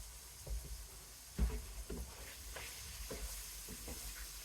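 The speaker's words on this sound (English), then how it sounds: "All I'm doing is just stirring this up, guys. I'm just keeping it stirred" Taco filling frying in a pan while being stirred, with a low steady sizzle and scattered scraping knocks from the spoon, including one louder clunk near the start, close up and with no talk.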